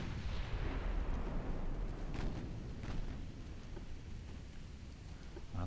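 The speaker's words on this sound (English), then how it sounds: "let's target the destroyer and fire" A destroyer is hit by a naval gun salvo in a video game, a dense rumbling burst of booming shots that rolls on loudly and then slowly fades into a lingering roar.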